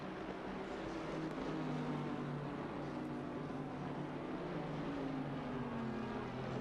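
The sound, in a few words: Bentley race car engine on track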